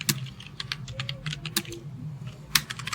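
Quick, close typing on a computer keyboard as an address is entered in MS Word, with a steady run of crisp key clicks and a couple of sharper strikes, no voices.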